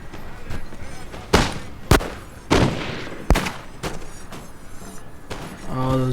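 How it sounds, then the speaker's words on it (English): Musket volleys crackle across a Napoleon Total War battlefield, several sharp separate bursts a second or so apart over a rumbling din of distant gunfire, with a voice talking between the shots. "All those volleys."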